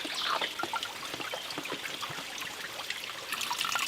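Clear hillside spring water trickles steadily into a water bladder outdoors, a continuous close splashing and gurgling with no pauses and no speech.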